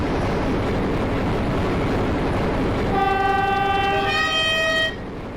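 A locomotive in a branch-line train video game rumbles steadily. Partway through, a loud two-tone horn blast sounds over the running engine, then cuts off abruptly.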